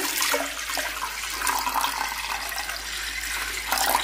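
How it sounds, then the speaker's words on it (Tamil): Water poured steadily from above onto washed roasted moong dal for a payasam, a continuous close rushing splash that holds level for the whole stretch with no talk over it. "இந்த பருப்பு முங்குற அளவு தண்ணி சேர்த்திக்கிறலாம்"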